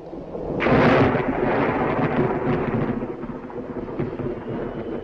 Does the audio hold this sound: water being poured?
no